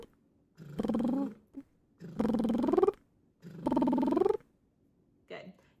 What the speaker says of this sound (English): So we're going to continue using the lip trill,